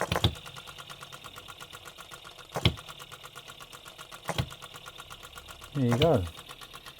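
An OKMO B02 model hit and miss engine runs with a steady rapid chuff, sharp firing bangs punctuating it every couple of seconds; a voice speaks briefly and a short rising whine rises near the end.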